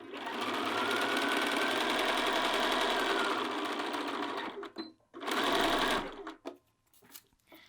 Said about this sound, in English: And then just sew the length of the seam.